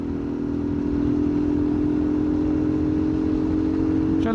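A motorcycle riding along a road between Sialkot and Chiniot, with a steady, loud engine drone and rushing wind noise that holds throughout, close to the rider and with no talking.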